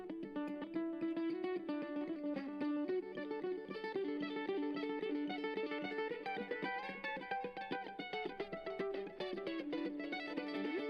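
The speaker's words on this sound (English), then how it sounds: "mandolin's really good." A bright plucked mandolin plays a steady looping melody with rapid picked notes in a rock/country song mix, loud and continuous throughout, with no voices.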